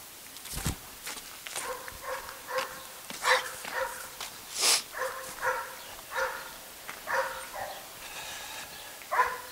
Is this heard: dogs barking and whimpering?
yes